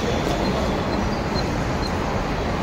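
Local train pulling into a station in Chennai, a steady dense rumble of wheels and carriages that fills the whole stretch, close and loud with no speech over it.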